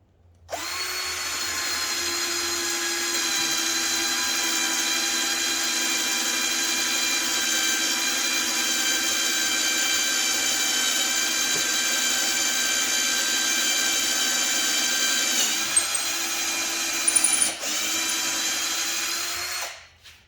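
An 18V Ozito cordless drill with a 10mm bit whirs slowly and steadily at constant speed for about eighteen seconds, a continuous motor whine with a few faint clicks near the end before it stops.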